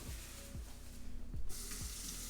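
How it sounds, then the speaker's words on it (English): Vegetables being rinsed under a running kitchen sink tap for a plant-based lentil spinach dal, a steady close water stream with a few brief clunks and splashes. "I do want to rinse this off"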